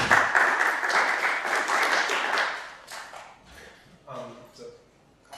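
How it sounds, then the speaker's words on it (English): An audience applauding at a scientific Python conference talk, a burst of clapping for about three seconds that fades out, followed by a voice starting to speak. "So please, round of applause."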